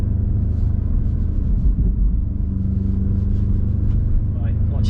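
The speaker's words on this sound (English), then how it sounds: "I'll show you a second gear pull" An Audi S3 8V with a kicking turbo pulls hard in second gear, a loud, dense engine drone and rumble that holds steady and close throughout, as heard from inside the car.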